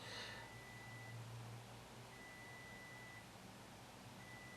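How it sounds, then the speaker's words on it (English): A faint electronic alarm gives long, steady high-pitched beeps with short gaps between them, over a quiet background hiss. "that's an alarm going off."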